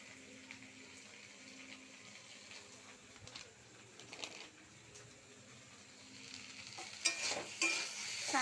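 Sunrise coriander powder and spice mix being stirred into frying fish curry in a pan; a soft, steady sizzle with faint scraping, quiet throughout and rising toward the end with brighter crackle.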